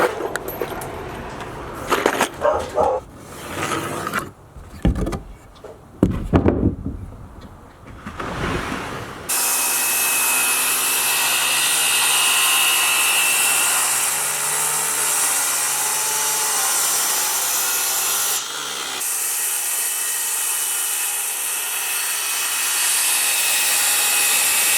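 A corded circular saw cuts wood during a school-bus camper conversion, running steadily and loud for about fifteen seconds after a stretch of scattered clunks and handling noises, with one brief dip partway through.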